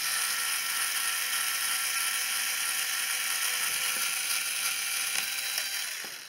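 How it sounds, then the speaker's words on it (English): A drill bores a pilot hole in an RC truck build, making a continuous high, steady whine that holds loud for about six seconds and then tapers off at the end. "line the drill bit right above where those bolts are at. Make a little pilot hole."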